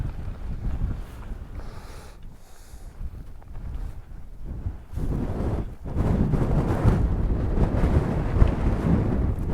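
Strong gusty wind buffets the microphone at a hillside camp in the Cheviot Hills, a rumbling roar that rises and falls, growing heavier in the second half; no voices.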